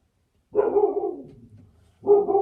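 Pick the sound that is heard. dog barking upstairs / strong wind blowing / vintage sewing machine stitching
dog barking upstairs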